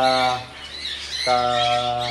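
Pet birds in a home aviary give loud, harsh squawks close up, two drawn-out calls separated by a short pause, with no talking over them.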